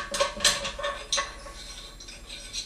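A nut on a toilet handle is unscrewed by hand, giving a run of small metallic clicks and ticks at an uneven pace, close and fairly faint, with no speech.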